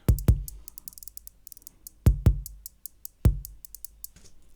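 An electronic drum pattern programmed in Ableton, with deep kick drum hits landing in irregular pairs and singles, and crisp ticking hi-hats scattered between them at a randomized pace.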